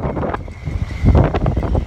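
Strong gusting wind during Typhoon Jebi in Japan near moored boats, buffeting and roaring in loud uneven blasts with a faint thin whistle running through it.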